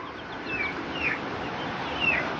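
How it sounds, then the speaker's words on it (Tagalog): Faint high chirps from one-month-old chicks repeat a few times over a steady background hiss. "Mga sisiw na yan."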